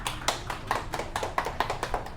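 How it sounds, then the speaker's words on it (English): An audience at a seminar presentation claps to welcome a speaker, about a dozen fairly close, distinct claps in an uneven rhythm, with no talking over them. "let us give a round of applause to invite Paul here"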